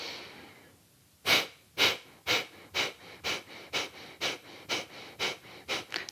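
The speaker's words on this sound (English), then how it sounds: "Inhale to exhale sharp." Fire-breathing yoga exercise, with a series of about a dozen sharp, forceful nasal exhalations in a quick even rhythm, close and clear after a brief quiet breath.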